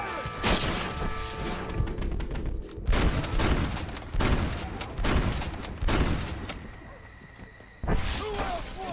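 Gunfire in a Red Dead Redemption shootout: loud repeated shots and crashing impacts come in bursts roughly every second or two, with a brief lull near the end before another blast, and a voice calling out partway through.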